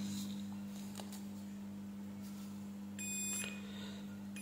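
A multimeter set to continuity mode gives a short high electronic beep while its probes test a triac, heard once near the end against a steady low electrical hum.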